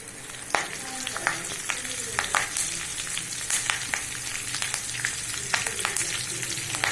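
Fennel powder and curry leaves crackling in hot oil for egg gravy, a dense close sizzle dotted with sharp pops and spits throughout.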